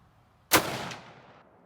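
A single loud gunshot from a Ruger SFAR 6.5 Creedmoor rifle with a 22-inch barrel firing Winchester 125 grain rounds, a sharp crack followed by a short decaying echo outdoors.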